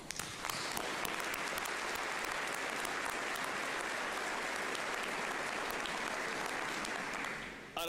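An audience at a university graduation commencement ceremony applauds, a dense, loud, sustained clapping from a large crowd that holds steady for several seconds before tapering off at the end, with no speech over it.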